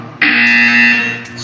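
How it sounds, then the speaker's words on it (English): A loud, steady electronic buzzer in the video game Portal 2 starts abruptly and holds for over a second with a harmonic drone, then a faint second tone enters briefly near the end. "You will hear a buzzer"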